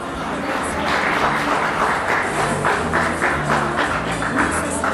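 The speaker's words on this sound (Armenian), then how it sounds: "ծափարում եք բարձր մեր մասնակցին" An audience at the Unique Awards ceremony claps loudly and continuously for a participant receiving a special award, a dense, even wash of applause with some voices mixed in.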